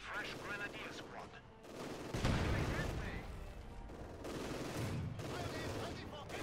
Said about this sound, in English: That mortar half-track's letting them have it.